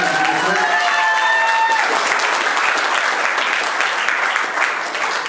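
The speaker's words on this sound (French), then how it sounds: "Veuillez acclamer pour ce choix." Guests at a Gabonese civil wedding clap in loud, dense applause that fills the room, with a voice speaking at the start before the clapping continues and fades slightly at the end.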